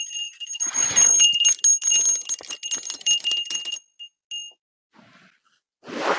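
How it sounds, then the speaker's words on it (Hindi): A bell rings repeatedly with bright metallic tones for several seconds, then falls quiet apart from a few faint clinks and a rustle. "बजवाइए घंटी तो"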